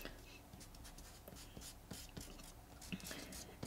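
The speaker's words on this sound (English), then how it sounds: "I'm just going to take my eraser and erase any parts that I don't need" An eraser rubs across paper over a pencil sketch, with repeated scratchy back-and-forth strokes close by and light handling noises between them.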